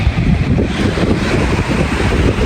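Strong wind gusts in Monastir, Tunisia buffet the microphone with a loud, rumbling rush that rises and falls continuously.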